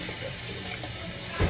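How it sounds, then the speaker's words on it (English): A cup rinsed under a running tap somewhere in the background of a home kitchen gives a steady, fairly soft hiss of flowing water, with a brief louder thump at the very end. "that's my other son back there, probably rinsing out a cup"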